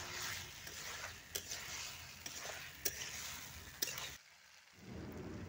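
Eggplant, potato and tomato curry frying in oil in a pan gives a steady broadband sizzle with a few sharp stirring clicks, dropping briefly quiet near the end before resuming.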